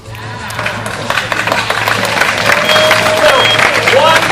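Audience applause and crowd noise after a sword swallowing act, swelling from scattered clapping into steady loud applause with cheering, while someone speaks over it.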